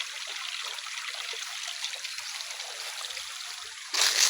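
A small mountain stream on a farm trickles and burbles steadily at moderate distance, a soft continuous wash of flowing water with a brief louder splash near the end.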